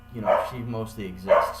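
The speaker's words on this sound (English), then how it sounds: "That's my dog." A 5-month-old puppy barks twice, short close woofs a second apart, mixed with a person talking over them.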